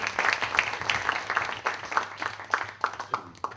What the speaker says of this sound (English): please a round of applause for Aidan Levy for doing this wonderful thing